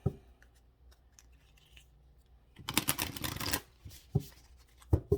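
Guidance cards are shuffled by hand in a brief, quick riffling burst of papery flutter, followed by a few soft taps and card handling noises in an otherwise quiet room.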